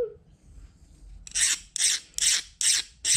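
A steel file rasping over hardened heat-treated metal, five rhythmic even strokes with a bright high-pitched scrape, close and clear.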